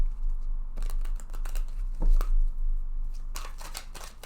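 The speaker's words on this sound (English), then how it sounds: "so I can go ahead now and shuffle this deck number 1" A deck of oracle cards being shuffled by hand, soft riffling and shuffling bursts with brief pauses between them, close and quiet, no voice.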